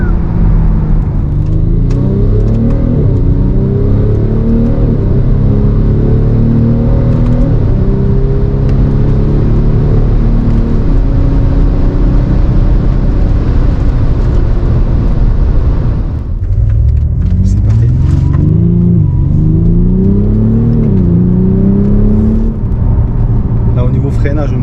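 BMW X6 M50d E71 diesel SUV accelerating hard in sport mode, its engine note rising steadily through gears from inside the cabin, with a brief drop at a shift before climbing again; people talk over it.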